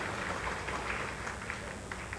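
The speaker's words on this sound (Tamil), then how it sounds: "என்ன இவ்வளோ கம்மியாக கைத்தட்டுறீங்க நீங்கள்?" An audience at a Tamil speech event applauds in a soft, even patter of many hands, fairly distant and sustained with no voices over it.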